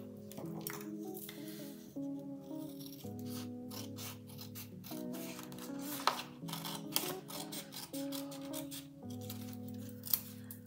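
Scissors snipping through a paper sticker during scrapbook junk-journal crafting, a run of small crisp cuts and rubbing sounds over a steady low background hum, close and fairly quiet.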